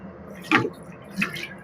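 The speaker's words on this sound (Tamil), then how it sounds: "கொஞ்சம் தண்ணி கலந்து" Water splashes into a pot of homemade sambar cooking with radish and lentils, two short separate pours or splashes over a quiet background.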